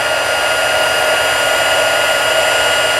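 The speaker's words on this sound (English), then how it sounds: "You want to be really careful when you're using the heat tool that you don't burn your fingers, because this thing gets really hot." A handheld heat tool blows hot air steadily to melt embossing powder in a card-making setup, giving a constant close whooshing fan roar with no breaks.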